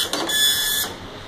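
A dot matrix printer driven by an Arduino runs a short printing burst, with a sharp, buzzy high-pitched whine over rapid mechanical chatter that stops after under a second, close and fairly loud with no voices.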